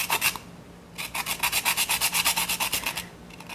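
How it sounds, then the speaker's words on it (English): Whole nutmeg rubbed against a grater for an apple and rhubarb crumble, a close rhythmic rasping of quick strokes in two bursts, a brief flurry then a steadier run of even scrapes, with no talking. "she has whole nutmeg with a grater"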